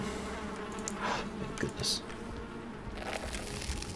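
Insects buzz around the player in the Valheim video game, a steady hum with brief louder swells, while a voice speaks briefly over it.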